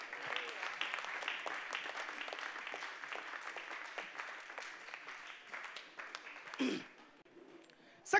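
A church congregation claps and applauds in a steady, dense wash for several seconds, with a few louder bursts and shouts near the end.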